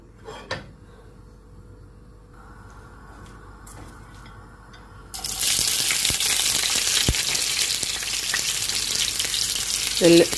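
Quiet kitchen clatter, then a sudden loud burst of sizzling and crackling as spices hit hot oil for tempering a dried prawn curry, continuing steadily with occasional clinks.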